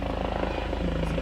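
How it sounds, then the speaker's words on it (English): A helicopter's rotor thumps in a rapid, steady beat, loud and continuous, as if passing low overhead, heard from inside a 1989 Jeep Cherokee. "The helicopter."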